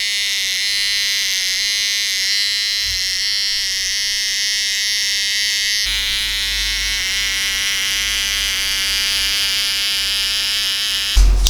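Electric hair clippers with a number 1 blade cutting a drop fade, a loud continuous close-up buzz with a slight change in pitch midway and no talking.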